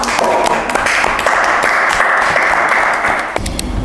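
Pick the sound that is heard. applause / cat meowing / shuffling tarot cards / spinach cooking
applause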